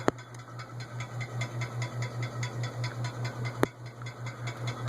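An antique Emerson Roundnose ceiling fan, customized, running steadily with a low rhythmic hum that pulses evenly, faint mechanical ticking on top, and one sharp click partway through.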